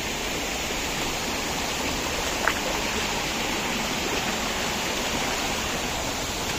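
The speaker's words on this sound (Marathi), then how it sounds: "वॉटरफॉल आहे समोर, तो पण दिसतोय बघा समोरच" Aadoshi Waterfall near Khopoli, with monsoon stream water pouring down, makes a steady, dense rushing roar that stays even and constant, heard alone without talk.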